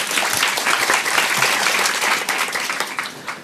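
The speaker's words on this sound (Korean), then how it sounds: "박수로 맞아주세요" An audience at a youth entrepreneur presentation before the president breaks into loud, dense applause that fills the hall, continuing strongly before easing slightly near the end.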